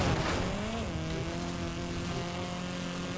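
A Hoonigan Ford Focus RSRX race car in a video game, driving with a steady, fairly quiet engine drone that dips in pitch early, then holds a sustained tone under a constant rushing noise.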